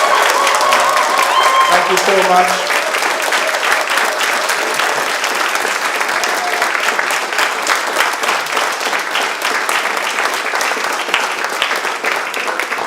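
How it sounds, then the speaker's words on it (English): A church congregation at a Sunday service applauds, dense sustained clapping filling the room for several seconds, with a brief spoken thanks near the start. "give them a River South round of applause"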